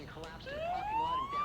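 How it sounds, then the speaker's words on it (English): Ambulance siren in the video game Ambulance Life, a rising electronic wail that swells in over the first half second and holds loud and steady, with some faint talk underneath. "There's our siren."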